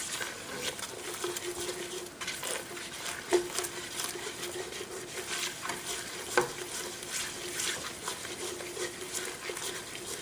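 Flour cooking in melted butter in a pan for a béchamel roux, a soft continuous sizzle with faint stirring scrapes and occasional small taps, steady and close.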